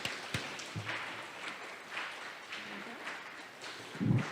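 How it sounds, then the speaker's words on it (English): Applause from a school audience after an 8th grade student's inspiration speech, a steady patter of clapping hands filling the room at moderate volume. "Another round of applause for Justin."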